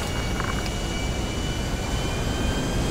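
A jet aircraft engine in GTA V Online gives off a steady, loud, unbroken roar that fills the whole stretch without pauses or changes in pitch.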